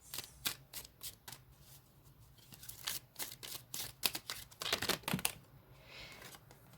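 Tarot cards being shuffled and drawn for a pick-a-card reading: quiet, close riffling and flicking with irregular bursts of crisp card snaps, soft and unaccompanied by talk.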